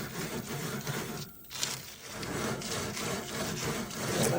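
A stainless steel sponge scrubbing the grates of a Big Green Egg grill, heard as a close, continuous rough rubbing and scraping with a brief pause partway through.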